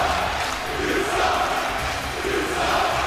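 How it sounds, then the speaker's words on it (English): Loud, dense arena crowd noise in the WWE 2K wrestling video game, a steady roar of cheering and jeering fans that holds for the whole stretch with no talk over it. "Look at this, listen to this crowd."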